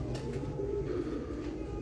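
Pigeons coo continuously at a Lahore pigeon loft, a dense, low murmuring chorus of many birds close by with no speech over it.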